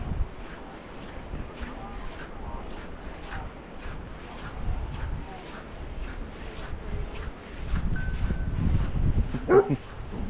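Dogs bark repeatedly in the distance over gusty wind noise outdoors on a waterfront walk, with people chatting nearby.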